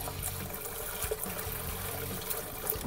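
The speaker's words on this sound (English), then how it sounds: "Also, how good's my pouring?" Nulon radiator water poured through a funnel makes a steady, gentle trickling and gurgling splash, close and continuous with a few small glugs, no talking.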